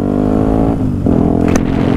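A 125cc A1 motorcycle engine revs loudly and close by, a buzzing, harmonic drone that dips, then climbs again in pitch, with a brief clatter near the end.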